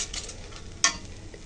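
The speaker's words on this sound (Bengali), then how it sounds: "এই মশলাটা সুন্দর করে কষিয়ে নেব, মশলা থেকে তেল উপরে উঠে আসা পর্যন্ত।" Masala paste for a tilapia curry sizzles in oil in a pan, a steady close hiss broken by one sharp stirring clink partway through.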